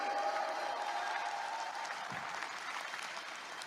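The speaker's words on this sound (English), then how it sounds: "Can we give Reway a round of applause today?" A live audience at a seminar claps steadily and fairly loudly for a few seconds, a dense, even wash of many hands that continues throughout.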